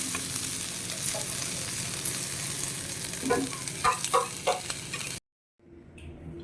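Potatoes sizzle and crackle in a hot pan, with scattered clinks and stirring, then cut out briefly before resuming faintly.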